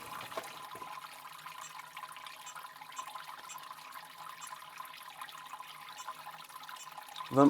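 Liquid trickles and drains steadily from lifted mash during home brewing of an English porter, a soft continuous watery wash with a louder gurgle at the very end.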